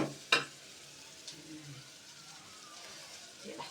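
A mix of pepper and garlic drops into a pan with a sharp splash and then a quiet, steady sizzle, heard close but faint.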